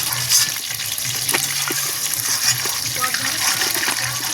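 Pakoras frying in a wok of oil at an outdoor family picnic, a steady close sizzle with scattered clinks and stirring scrapes, alone without talk.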